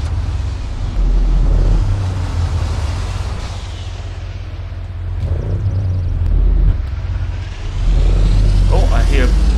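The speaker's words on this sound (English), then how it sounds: "I hear some kind of a truck, I think. Some kind of a big truck coming." A big truck engine in the Arma 3 City Life RPG 2 game rumbles deep and loud, swelling as it approaches and holding a heavy low drone throughout.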